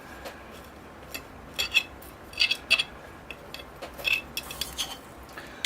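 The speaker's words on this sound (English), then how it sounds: "using my chopstick and working that in" A wooden chopstick works soil into a hemlock bonsai nursery log, giving faint scattered clinks and scraping taps in small clusters, close and quiet with no talk.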